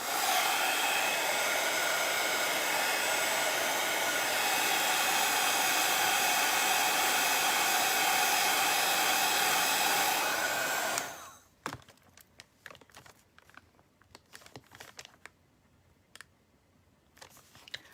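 Heat tool blowing hot air onto WoodUBend wood scraps on a Dollar Tree wooden Easter egg, a steady loud whooshing hum for about eleven seconds that cuts off abruptly, followed by faint clicks and handling noises.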